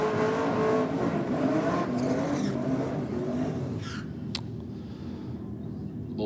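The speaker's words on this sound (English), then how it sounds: "A lot of wheel spin there off the line." Drag race cars launch off the line with wheel spin at a drag strip, a loud roaring engine and tyre noise that gradually recedes, followed by a brief sharp crack.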